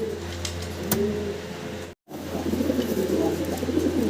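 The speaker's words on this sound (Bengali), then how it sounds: "কবুতরটা গ্রে চিলা বলে ব্রাহ্মা গ্রে চিলা ব্রাহ্মা" Grey Chila Brahma fancy pigeons cooing in a loft, soft repeated throaty coos over a steady background hum, close and moderately quiet, with a brief dropout midway.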